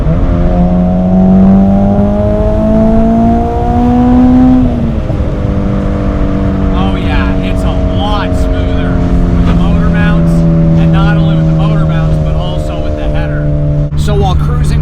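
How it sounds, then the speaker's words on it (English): Acura Integra Type R engine fitted with a Skunk2 race header, idling and under light throttle with a steady, slightly bassy hum that rises and falls gently in pitch, loud and close throughout. "With the Skunk2 Race Header, it's a little bit louder at idle and light throttle, but barely."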